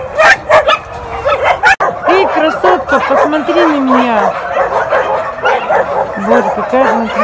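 Several dogs at an animal shelter bark, yip and whimper in quick overlapping bursts close by, while someone talks over the noise of the kennel.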